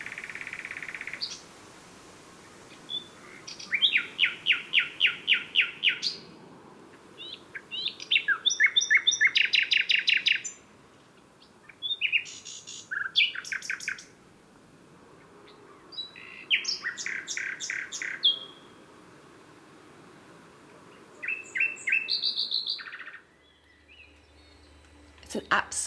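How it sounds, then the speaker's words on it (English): Nightingale song outdoors at night: bright, varied phrases of rapid trills, pulsing notes and whistles, repeated in bursts separated by brief pauses over a steady background hiss. "the best time to hear a nightingale sing is at night"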